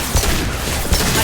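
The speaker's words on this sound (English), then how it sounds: "Stop shooting me!" Dense gunfire from the video game Mass Effect 2 fills the clip as a steady, noisy roar of shots, with two heavier impacts standing out near the start and end.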